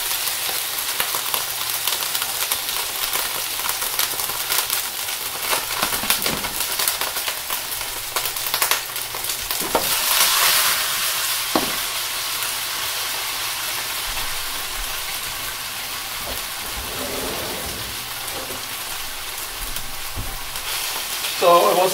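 Hash browns frying on high heat in a pan, a loud continuous hissing sizzle that holds steady throughout, close up, with a brief surge midway and occasional scrapes and knocks.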